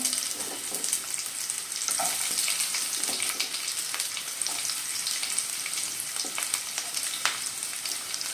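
Curry leaves and shallots, added after mustard seeds, sizzle and crackle steadily in hot oil in a pan, a loud continuous frying hiss with occasional stirring scrapes.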